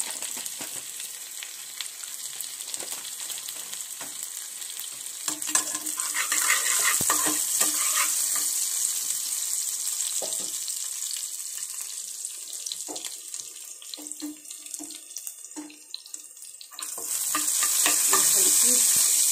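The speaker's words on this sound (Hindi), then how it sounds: "थोड़ी सी राई के दाने मैंने इसमें डाले हैं," Mustard seeds sizzle and crackle in hot oil in a steady, loud frying hiss for a dosa sambar. Scattered pops and a faint stirring scrape run underneath, and the hiss swells near the end.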